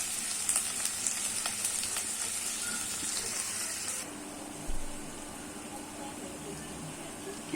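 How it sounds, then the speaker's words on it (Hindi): Finely chopped onion frying for Kashmiri mash dal, a steady close sizzle with soft stirring clatter, which turns quieter and duller partway through after a brief low thump. "मैंने लिया है एक प्याज बारीक कटा हुआ। इसको मैं अच्छी तरह से फ्राई करूँगी।"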